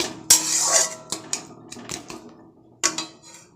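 Turmeric is stirred into softened food in a pan, giving a few sharp utensil scrapes and clinks against the metal with quieter rubbing between them, close up with no talk.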